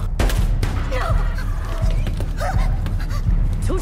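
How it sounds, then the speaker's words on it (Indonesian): Gunfire from a film scene in which a man waiting outside a hotel is shot dead, loud and dense, with sharp repeated blasts over a busy, continuous mix of background noise and possible faint voices. "tiba-tiba Richard yang sedang menunggu di luar hotel ditembak mati oleh seseorang yang tidak dikenal"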